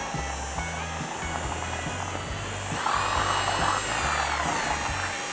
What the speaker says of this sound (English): this drill mixer does awesome getting those out